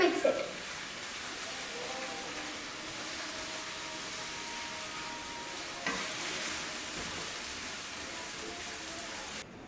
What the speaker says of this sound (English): And once you put the noodles, you need to mix it.